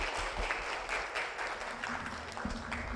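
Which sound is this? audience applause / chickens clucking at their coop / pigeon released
audience applause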